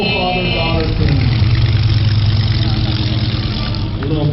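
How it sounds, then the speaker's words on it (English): A Plymouth muscle car with a Hemi engine running at a Great Race classic car event on Route 66 in Springfield, Illinois; a loud, deep, steady engine rumble that swells slightly and holds throughout, close by. "Hemi engine in this car."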